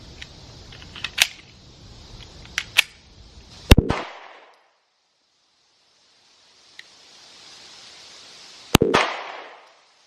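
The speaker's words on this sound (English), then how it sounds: "I want you to fire it, keep the trigger depressed" Smith & Wesson Shield pistol firing two shots outdoors, two sharp loud reports several seconds apart, each with a short decaying echo, with faint clicks and handling noises before the first shot.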